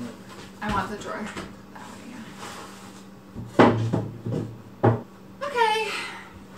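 A few wooden thumps and slides of a drawer being opened and shut, separated by pauses, with a person talking in between.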